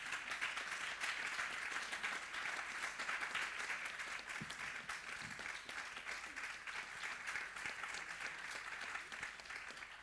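Steady applause from an audience at a business meetup, dense and sustained for the full stretch at an even level, with no voices standing out.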